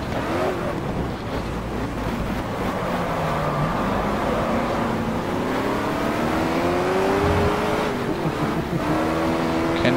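A TVR Griffith 400 race car engine roars in the racing game GT Legends. The engine drones loud and steady throughout, with pitch sweeping up and down as it revs through gear changes.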